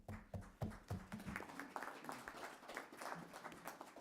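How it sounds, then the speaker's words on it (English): Round of applause at a state licensing board meeting, many hands clapping in a dense steady patter for about four seconds, sharper individual claps near the start, moderately distant in a meeting room. "a round of applause for everybody."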